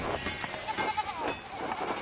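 Sheep in the medieval adventure game Pentiment bleat in a short run of repeated calls, fairly loud and close over a busy ambient background, with no talking.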